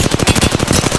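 Rapid automatic gunfire in the Apex Legends battle royale game: a loud, close burst of evenly spaced shots firing in quick succession for about a second.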